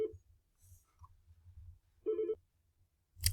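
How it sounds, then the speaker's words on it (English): Telephone ringing indoors during a training presentation, heard as short tonal ring bursts separated by gaps over a low background rumble. "I apologize for the phone there."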